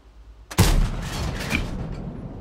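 A tank cannon fires in World of Tanks, one sharp loud boom followed by a rolling, rumbling tail that fades slowly, heard alone with no talk.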